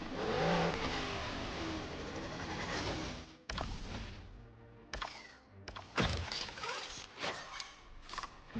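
BMW car engine revving in the racing game Asphalt Legends, a loud sustained roar that cuts out and returns in several bursts, mixed with clicking that resembles keyboard typing.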